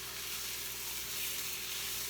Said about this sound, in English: I'm just at this point browning up the sausages and cooking them through